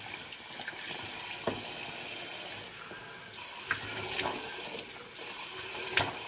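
Tap water runs steadily into a bathroom sink while warming up for washing the face, a continuous broadband splash with a few brief clinks and knocks over it, fairly close.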